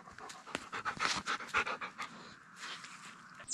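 A large dog pants in quick, steady breaths close by, the rapid huffing running through the whole stretch with no talk over it.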